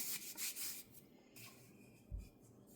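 Pie dough is rolled out on a rolling pin. There are soft, quiet rubbing and scraping strokes in a few brief passes, followed by a dull low thump.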